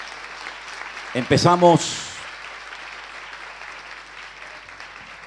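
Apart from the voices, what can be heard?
applause from the congregation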